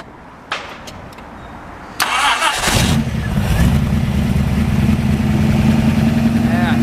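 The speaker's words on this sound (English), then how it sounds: "We'll go ahead and fire this one up for you." A 1965 Shelby 427 S/C Cobra continuation with side pipes cranks and fires, then settles into a loud, deep, steady idle close by, after a faint click and quiet lead-in.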